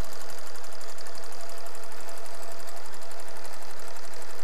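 A longarm quilting machine running at normal speed, stitching a quilt: a steady, loud, fast mechanical whirring hum with rapid even rhythmic needle chatter, continuous and alone for the whole stretch.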